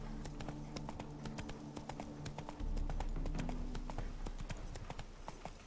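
Hooves of a horse galloping in The Witcher 3 on Xbox One X, a fast, continuous clip-clop rhythm at moderate level over game ambience and a low steady rumble.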